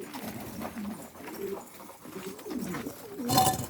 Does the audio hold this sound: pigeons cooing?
yes